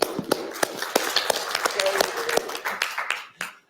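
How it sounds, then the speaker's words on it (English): Seminar audience gives a round of clapping: sharp, irregular hand claps from a modest crowd, close and fairly loud, thinning out toward the end. "I just want everyone to give Billy a clap, the first thing."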